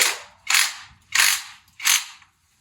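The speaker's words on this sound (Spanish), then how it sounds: "Y ya mucho cuidado con la pistola, porque si apretamos más de la cuenta podemos pasar la tuerca." An impact wrench tightens a fork nut on a Derbi DRD / Rieju MRT motorcycle in four loud, close rattling bursts, each under half a second, separated by short silences.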